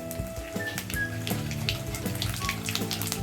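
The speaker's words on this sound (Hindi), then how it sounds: "ये डाल के थोड़ा सा खुशबू आने तक भूनना है अच्छी तरह।" Whole dry spices and a bay leaf fry in hot oil for a chicken and egg curry, a close, steady sizzle with scattered small crackles and pops.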